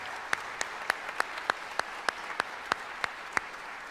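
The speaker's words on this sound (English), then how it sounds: "how about one more round of applause for the incredible staff and these amazing students" At an ATSSB All-State Band concert, an audience claps in a quiet, slow, evenly spaced rhythm of sharp single claps, faint and somewhat distant.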